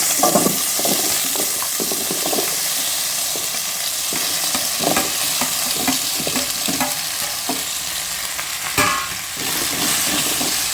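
Taro root pieces fry in hot oil for a sambar, giving a steady, loud sizzle broken by repeated scraping stirs in the pan, with no talking.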